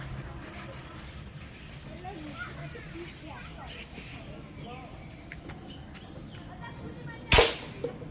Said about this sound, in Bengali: মোটামুটি কাছ থেকে একটা শুট করে দেখানোর চেষ্টা করতেছি